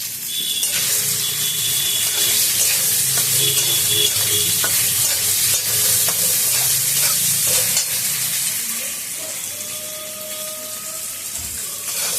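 Potatoes fry in fish oil in a pan, a loud, constant sizzle close by with scraping stirs breaking through, easing slightly toward the end, with no one talking.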